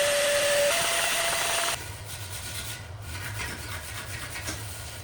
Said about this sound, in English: I really hope you guys could see how much the air duster brought off of the radiator there